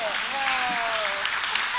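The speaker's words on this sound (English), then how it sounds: "Let's give Manny a round of applause." A panel audience at a Women's History Month event applauds Manny. Brief, steady clapping sounds under a voice speaking over it.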